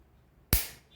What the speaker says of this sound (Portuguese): se eu dou um tiro com o Activator